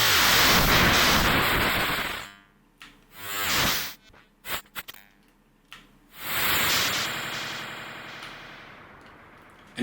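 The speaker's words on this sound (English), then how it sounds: "I'm gonna send some noise to the echo now." Bursts of white noise from a SynthVR modular synthesizer pass through an echo effect, loud hissing swells that cut off abruptly, leaving short repeating echoed fragments and gaps before the noise surges back.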